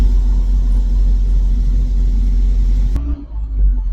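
A loaded goods truck on the Mumbai to Goa route sits in a traffic jam, its engine giving a steady, close, deep rumble that shifts and dips near the end.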